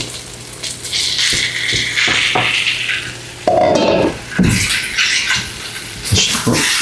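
Shrimp hitting a hot pan of sautéing vegetables with oyster sauce, a Hawaiian-style sauté, bursting into a loud, steady sizzle after a stretch of quieter frying and stirring.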